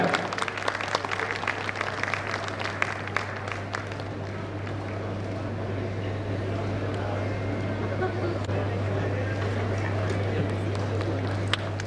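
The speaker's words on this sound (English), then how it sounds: "Let's give a round of applause, ladies and gentlemen." Crowd applause at a women's awards ceremony, scattered sharp claps early that settle into a softer, continuous patter under a steady low electrical hum, with some voice-like sound mixed in.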